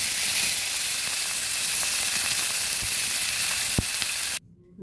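A piece of katla fish hitting hot oil, a loud, dense sizzle with a few light clicks, cutting off abruptly near the end.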